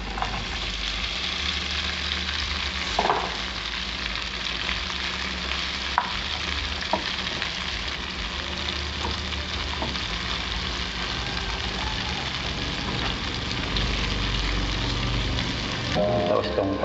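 Tofu and pork sisig sizzle steadily as they fry in a pan, a dense continuous crackle with occasional clinks and stirring scrapes, close and fairly loud throughout.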